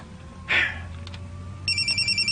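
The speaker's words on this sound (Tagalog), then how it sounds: "Oh, tanawa. Nanawag na si mama." A mobile phone rings with an incoming call: after a brief noise, a repeating electronic ringtone starts partway through, pulsing in a steady rhythm at moderate volume.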